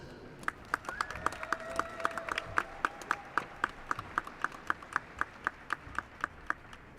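Steady, evenly spaced clapping at a spring 2024 doctoral and master's degree commencement ceremony, fairly faint with a distant voice briefly audible underneath.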